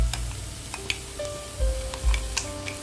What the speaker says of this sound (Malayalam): ഈ സമയത്ത് നമ്മൾ നേരത്തെ തയ്യാറാക്കി വെച്ചിരിക്കുന്ന നമ്മുടെ ഗ്രീൻ മസാല ഉണ്ടല്ലോ, അത് നമുക്കിതിലേക്ക് ഇട്ട് കൊടുക്കാം.